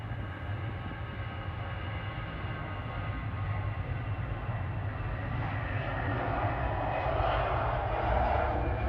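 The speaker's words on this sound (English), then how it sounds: "EasyJet on the roll in the background." EasyJet airliner on its takeoff roll at Manchester Airport, a steady distant jet engine roar building gradually in the background with no talk.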